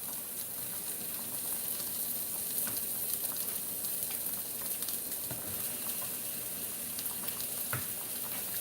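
Salsa with corn heats in a frying pan, giving a faint, steady sizzle with soft scattered pops and crackles throughout, no voices.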